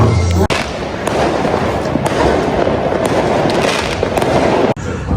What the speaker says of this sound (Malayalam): Ahí está, mira. Pirotecnia. Pirotecnia.